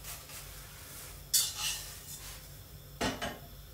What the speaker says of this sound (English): And just stir that through the veg.